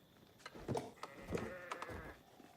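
Sheep bleat in a strategy video game, several short calls at moderate loudness over a low game background with no talk.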